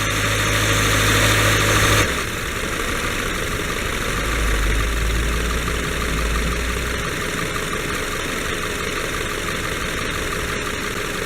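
A 2015 Subaru Forester engine starts up and settles into a steady, close mechanical idle, with a louder rumble for the first two seconds before it evens out into a constant hum.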